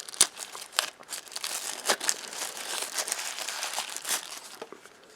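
Soft-feel plastic packaging of Boltune BT-BH020 true wireless earbuds peeled open up close, a steady run of crinkling and crackling with sharp tearing bursts, no talking.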